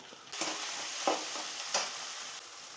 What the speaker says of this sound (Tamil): இந்த தக்காளி வெங்காயம்லாம் நல்லா வதங்கட்டும்